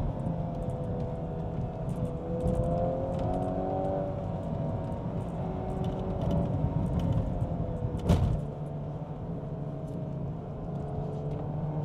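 A Revo Stage 2 Volkswagen Golf R Mk8 on Michelin Pilot Sport 4S tyres pulls along a road, its engine droning and rising steadily inside the cabin, with a brief sharp thump near the end.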